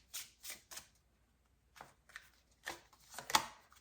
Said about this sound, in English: So then we'll take 6 of these tarot cards next.